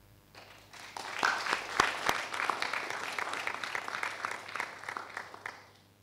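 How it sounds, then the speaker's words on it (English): A round of applause from a meeting audience at a regional internet registry gathering, as a nomination for chair is accepted; moderate clapping swells quickly, holds steady for several seconds, then tapers off. "can we accept Toshio's nomination for chair with a round of applause?"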